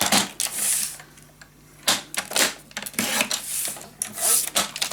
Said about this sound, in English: I just need to cut down another strip.